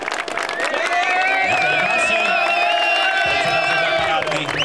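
Audience applause and cheering at a 2025 OHL SB awards evening, a loud continuous roar of clapping and whoops with a sustained tonal horn-like note running through it.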